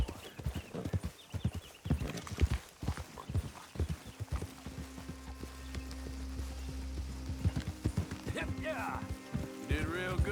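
Horse hooves clip-clop in Red Dead Redemption 2, a steady rhythmic trot heard over a low game soundscape while someone talks throughout.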